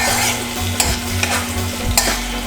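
Seasoned rice and mackerel, a Jamaican dish, being stirred in a hot pan, loud close sizzling with a few sharp spoon scrapes and taps against the pan, steady throughout with no voices.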